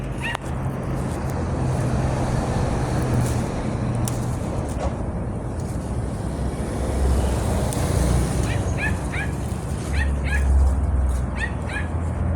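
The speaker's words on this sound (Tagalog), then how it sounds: "Maingay ang aso." A dog yips and barks in short bursts from a distance, repeated in clusters, over constant traffic rumble.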